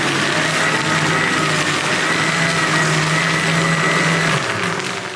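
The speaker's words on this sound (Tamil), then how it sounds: "கூலிங் ஆனதுக்கப்புறம் நீங்கள் வந்து இந்த மாதிரி மிக்சியில் போட்டு வெண்ணெய் எடுக்கலாம்." A kitchen mixer grinder churns chilled curd with ice cubes into butter, its motor whirring loudly and steadily at close range for several seconds before winding down slightly.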